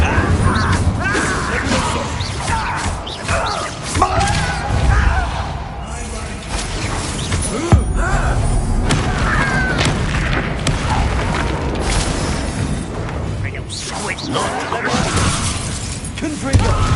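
Confringo fire spells in Hogwarts Legacy go off as repeated booms and shattering crashes amid busy combat noise, with voices speaking over the action throughout.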